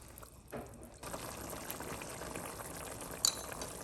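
Mapo tofu simmers in a pan with a soft, steady bubbling that stays low and close. It grows denser after the first second, and a single brief clink rings near the end.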